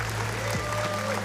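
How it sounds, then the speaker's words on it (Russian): An audience at an ACB 5 MMA event applauds the fighters, a steady wash of clapping under a low hum, with a commentator's voice running over it. "Аплодисменты бойцам."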